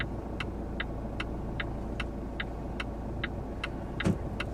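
A car reversing as it parks itself: a low steady engine hum and rumble, with a regular series of short repeated beeps ticking over it and one brief louder knock near the end.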